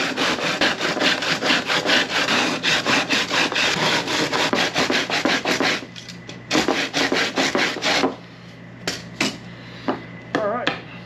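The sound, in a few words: hand sander on a custom car console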